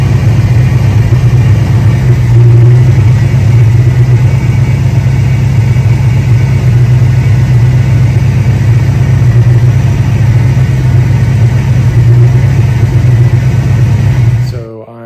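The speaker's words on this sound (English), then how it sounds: "I saw that there is what looks like an exhaust leak right where the X pipe meets the catback." A Ford Fox Body Mustang idles with an exhaust leak where the X pipe meets the catback, producing a loud, steady low rumble with a ticking, puffing roughness that continues unbroken for about fifteen seconds before stopping.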